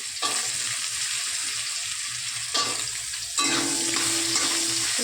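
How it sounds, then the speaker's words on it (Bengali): Potatoes sizzle steadily in a hot pan of oil in a home kitchen, the loud, close frying hiss swelling each time they are stirred. "এবার আলু দিয়ে দিলাম।"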